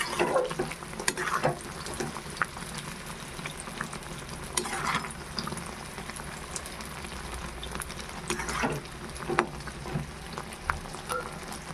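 Amla pickle syrup simmers in a pan, giving a steady soft bubbling sizzle, close and fairly quiet, dotted with small clicks and scrapes.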